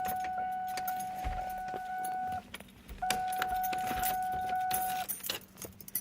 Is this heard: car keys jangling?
yes